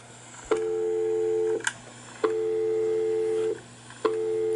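Telephone ringback while a call waits to be answered: three loud, steady tones about a second long each, separated by short pauses, close and clear over a faint background hum, with no talk.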